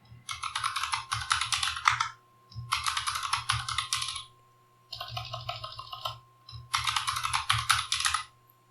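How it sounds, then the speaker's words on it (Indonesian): Typing a password on a computer keyboard during a Rocky Linux 8.4 install, four bursts of rapid, close, crisp key clicks separated by short pauses, with no talk. "Dan kita bisa inputkan password rahasia kita."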